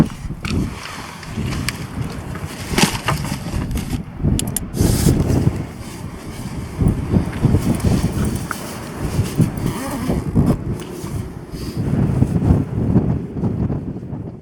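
Strong gusting wind on a hilltop in England buffets the microphone throughout, with loud rushing bursts rising and falling in uneven waves.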